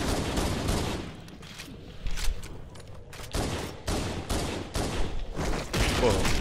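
Rapid bursts of gunfire from a favorite weapon in the Halo video game, with repeated sharp shots in clustered volleys that come loud and close, and brief lulls between bursts.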